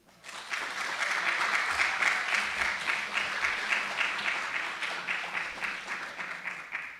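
A church congregation applauds musicians after a service piece, warm sustained clapping that swells in quickly, holds steady and slowly thins toward the end, heard at a moderate distance in a reverberant room.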